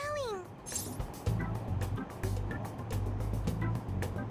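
A stuffed cat toy in the video game Persona lets out a short, falling meow at the start, followed by a steady low hum and faint scattered game sounds.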